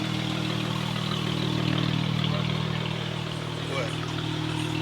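A Dodge Charger Scat Pack sits idling at a car meet, its engine giving a steady, loud low rumble that runs unbroken throughout with crowd chatter mixed in.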